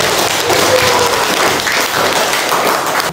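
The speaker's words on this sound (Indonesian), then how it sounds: "Oke, beri tepuk tangan." Students in a vocational high school classroom give a loud, steady round of applause, dense overlapping claps close by, sustained evenly for several seconds.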